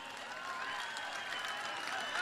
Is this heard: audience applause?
yes